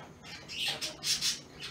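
Birds squawk at a tidal fishing spot as the water draws out, several harsh, close calls repeating in quick succession over about two seconds with no talking.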